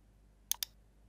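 A computer mouse on a Windows PC gives two quick sharp clicks in close succession, near and faint against near silence.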